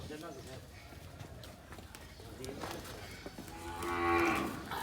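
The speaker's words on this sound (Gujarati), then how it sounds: "સામે ગાય પકડાઈ ગઈ છે" A cow moos loudly, a long bellow building toward the end, amid shouting people and scuffling hooves nearby.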